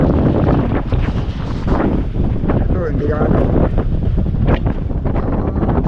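Strong monsoon wind roars continuously into the microphone near the sea, buffeting in heavy gusts with a low rumble and surf-like wash underneath, while a person talks briefly through it.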